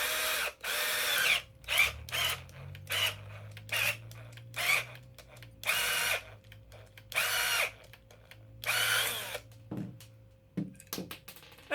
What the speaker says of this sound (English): I drilled both from the back and from the front to get all of the parts of the air restrictor out